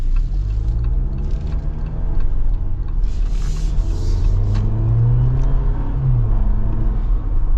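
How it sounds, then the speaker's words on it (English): 2025 Jeep Wrangler Rubicon Xtreme Recon with the 2.0T engine accelerating through its gears, a continuous low engine rumble that rises and falls as each gear shifts, heard from inside the vehicle. "it's just going through all the gears as quick as it can to keep it in the torque band"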